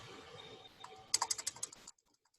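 A password typed on a computer keyboard: a quick burst of about eight crisp, close key clicks, then silence.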